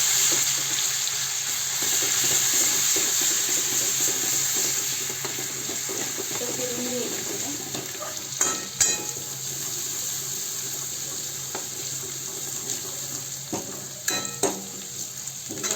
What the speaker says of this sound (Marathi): जिरे चांगले तडतडले का आलं लसूण